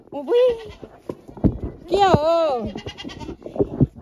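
Goats bleat close by at a rural home, several wavering calls in quick succession, loud and near, with occasional soft sounds between them.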